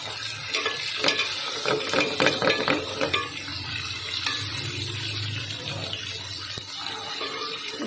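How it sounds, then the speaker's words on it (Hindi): Fish frying in a pan after being flipped, a close, crackling sizzle with busy scraping and handling noises early on, settling into a softer steady fry. "अब हम फ़िश के साइड चेंज करेंगे ताकि दूसरी तरफ से भी बहुत अच्छे तरीके से ये फ्राई हो जाए।"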